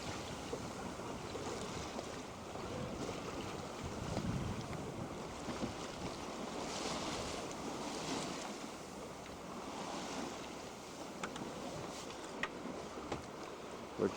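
Sailboat under the jib alone at about four knots off Alaska, with water washing and splashing along the hull amid steady wind and microphone buffeting, moderately quiet and continuous.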